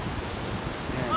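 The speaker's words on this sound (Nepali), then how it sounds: "बिरिङ खोला" The Biring river, a mountain stream, flows with a steady broadband rush, constant and close with no breaks.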